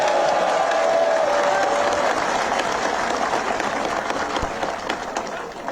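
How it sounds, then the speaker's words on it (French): Audience at a large political rally clapping strongly, a dense wash of hands with a few faint whoops, fairly close and gradually tapering off. "Applaudissez-le encore fortement"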